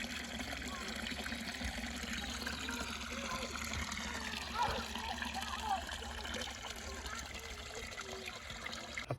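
Water runs steadily into a garden pond liner being filled on a two-level pond built from reclaimed decking, a continuous near trickle and splash with faint talk in the background.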